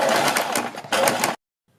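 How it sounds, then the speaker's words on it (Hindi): A sewing machine stitches a neckline strip in two quick bursts of rapid mechanical whirring, close and fairly loud, then stops abruptly into silence. "फिर बीच में हम ये सिलाई लगा लेंगे।"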